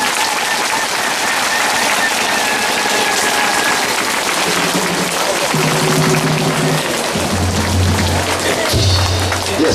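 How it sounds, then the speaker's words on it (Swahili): A church congregation claps at a sermon gathering, producing dense, sustained applause that fills the whole stretch, with sustained musical tones joining in the latter half. "piga makofi"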